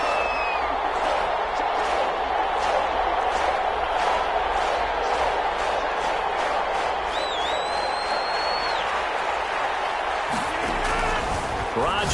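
A stadium crowd in an American football video game roars steadily before a big third down, a broad, sustained wash of cheering that runs under a commentator's voice throughout.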